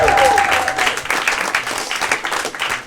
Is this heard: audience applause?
yes